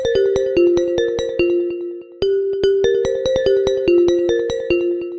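Apple iPhone ringtone plays a shimmering, bell-like glassy melody with sustained ringing tones under rapid struck notes, continuous and fairly loud, repeating its phrase after a brief dip, no voices.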